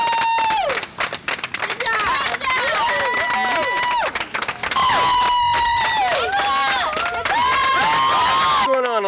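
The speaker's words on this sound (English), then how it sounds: "We are cheering on our runners because there is a race going on" A crowd at a beach race on Hollywood Beach cheers and shouts for passing runners, with loud whoops, claps and whistles close by, and people talking throughout.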